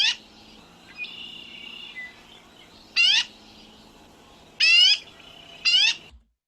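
A black-billed magpie gives a few harsh, raspy calls in short bursts, close and clear, with quieter bird chatter between them before a sudden stop.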